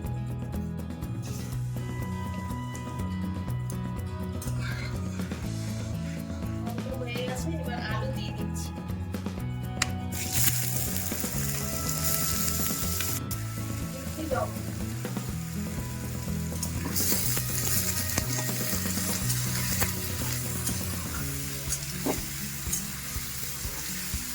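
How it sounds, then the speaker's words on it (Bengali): Black cumin seeds tempering in hot mustard oil in a wok for an aloo posto dish with drumsticks: a steady close crackling sizzle that surges louder midway, over a constant low hum. "কড়াইতে সর্ষের তেল দিয়ে দিচ্ছি আর দিচ্ছি কালো জিরে ফোড়ন"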